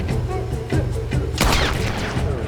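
Gunfire in Red Dead Redemption 2, a string of sharp shots followed by a louder blast and its reverberating boom, set against a steady game background.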